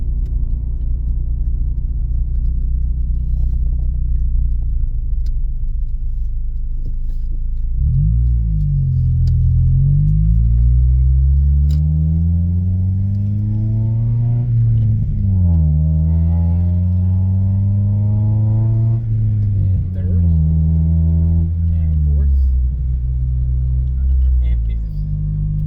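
A car's engine cruises steadily in fifth gear at about 1,500 RPM, a low continuous rumble throughout, with a voice talking over it from the middle onward.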